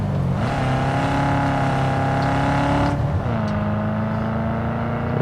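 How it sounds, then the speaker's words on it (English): A car engine drones and revs in the video game Cyberpunk 2077, rising in pitch with a gear shift midway, steady and close with no talk. "I wanna take a quick ride in order to see how the GPU is performing on the FPS"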